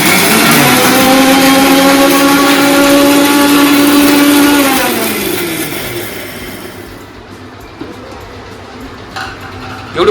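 Mixer grinder motor whirring loud and steady while grinding dried red chillies for garlic chutney, then winding down and stopping halfway, leaving faint clatter in a quiet kitchen.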